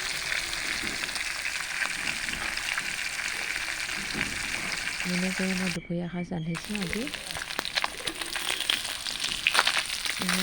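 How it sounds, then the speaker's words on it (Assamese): Fish frying in mustard oil in a wok gives a steady close sizzle that runs throughout, with a brief stirring scrape and a short talking voice partway through. "মাছখিনি মই ভালদৰে ভাজি ল'ম।"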